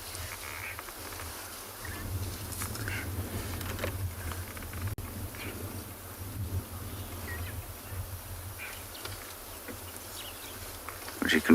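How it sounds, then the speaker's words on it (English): Northwester wind blowing steadily outdoors on a morning safari in South Africa, a continuous broadband rush with low rumble, with faint insect buzz and distant bird calls mixed in. "You can feel this wind blowing."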